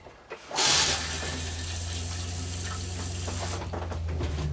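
Water runs into an RV toilet bowl in a fifth-wheel bathroom during winterizing, starting with a click and a burst, then a steady hissing stream for about three seconds before tapering off.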